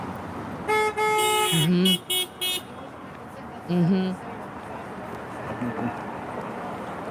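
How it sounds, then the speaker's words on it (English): Car horns honking: a long sustained blast followed by several short toots, then another brief honk a moment later, fairly close and loud against a quieter background. "Just make sure the honking's happening."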